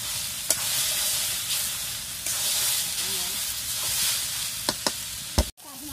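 Fish fry in hot oil in a village kitchen pan, giving a steady loud sizzle and hiss, punctuated by a few sharp clinks of stirring against the pan.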